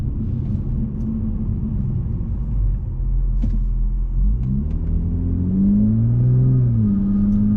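Volvo S60 T6 with a Stage 2 tune launching at full throttle down a drag strip, the engine a loud low rumble that climbs steadily in pitch as it revs up, with no talking.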